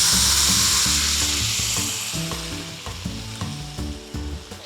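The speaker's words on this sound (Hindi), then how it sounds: "अब हम अपनी दाल जो है वो इसमें डाल देंगे।" Dal poured into a hot tadka in a pan for a five-dal mix Keoti dal, loud crackling sizzle and frying with scraping stir strokes, the spattering easing slowly over several seconds.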